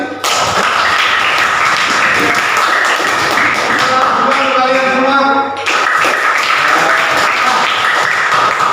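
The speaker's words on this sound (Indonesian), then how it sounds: "Tepuk tangan untuk Radit" Schoolchildren in an Indonesian classroom clap for a classmate, a close, lively patter of hands that pauses briefly while a voice speaks, then resumes.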